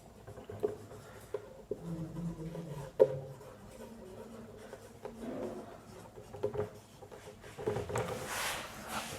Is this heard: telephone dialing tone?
no